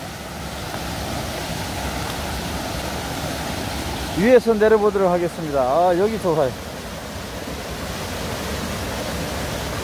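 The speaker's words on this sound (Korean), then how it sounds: "여기가 소가 있고 폭포입니다" A waterfall pours into a pool along the Jijangsan valley stream, its water running down over rocks in three branches and making a steady broadband rush throughout. Someone speaks briefly partway through.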